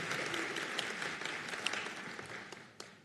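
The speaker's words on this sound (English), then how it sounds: "Another round of applause for our family nurse practitioner graduates" Audience applause for family nurse practitioner graduates at a nursing school graduation ceremony, a sustained wash of many hands clapping in a large hall with a few sharper individual claps standing out.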